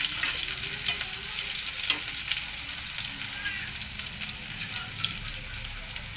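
Garlic frying in hot oil until reddish, a steady close sizzle with a few faint stirring clicks scattered through.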